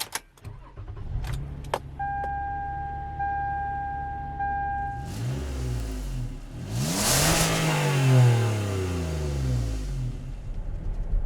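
A 2008 Toyota Sienna minivan accelerates while driving, its engine rising in a loud, close sweep that drops and climbs again through the gears, with a steady cabin hum underneath.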